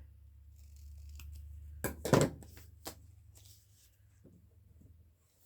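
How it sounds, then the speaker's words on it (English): Scissors snip through strips of paper to cut them into a tag shape: a few crisp, close cuts clustered together, the strongest in the middle, over a low steady background hum. "Cut those into a tag shape."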